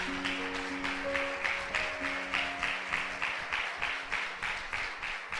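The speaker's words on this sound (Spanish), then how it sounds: "Dale un aplauso fuerte a Él." Church congregation claps loudly and steadily during a Spanish-language sermon, a sustained wash of applause with rhythmic pulses of clapping and organ or keyboard tones held underneath.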